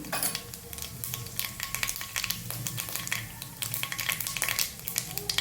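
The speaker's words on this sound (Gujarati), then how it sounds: "હવે આપણે એમાં એડ કરીશું, તેલ આવી ગયું છે આપણું, એડ કરીશું રાઈ, સહેજ જીરું" Mustard seeds and a little cumin hit hot oil in a pan, giving a continuous close crackle with dense sharp pops and spatters throughout, fairly quiet overall and with no talking.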